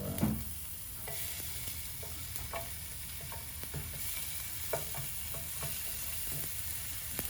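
Onions frying in oil in a pan for Mexican meatball soup, a soft, even sizzle with light stirring clicks now and then, steady and close with no voices.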